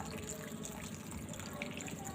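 A small amount of water is poured into a plant's watering setup that runs through a cloth wick, making a faint, steady trickle close by.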